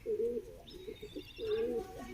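A pigeon coos close by in soft, repeated throaty rolls, with a few faint chirps in between.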